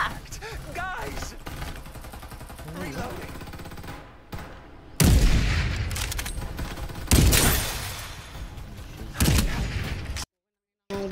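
Gunfire in Farlight 84, with a BAR 95 rifle among the weapons, comes as rapid bursts punctuated by several loud heavy blasts, with game voice callouts and player chatter through the fighting.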